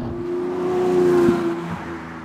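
A high-mileage Lamborghini Murcielago EVO pulls steadily in wet weather, its engine drone building gradually and then easing, heard from inside or near the car with no talking.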